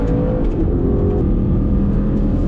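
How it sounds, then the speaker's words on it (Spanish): Aston Martin Vantage N430 exhaust heard from inside the cabin, a loud, steady, deep engine rumble with no break, close and filling the space. "Incluso el sonido del escape es un sonido muy presente en el habitáculo."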